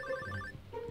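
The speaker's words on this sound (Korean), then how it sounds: "웬 전화지?" A telephone rings in a farming video game, a short bright electronic ringtone repeating its chirping pattern, heard alone and clearly for about a second.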